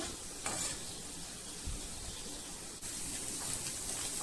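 Onion and garlic fry in a pan while being stirred, a soft continuous sizzle with occasional scraping and stirring sounds throughout.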